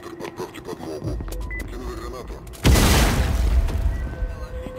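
A grenade blast in the shooter game VLADiK BRUTAL, one loud booming explosion that follows quieter game sounds and a voice and then fades out into a lingering rumble.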